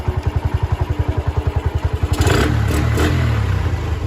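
A Honda Sonic 125 motorcycle engine runs close by, first with a fast, even idle thump, then revving into a louder, sustained roar.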